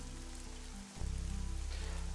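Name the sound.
rain falling in a video game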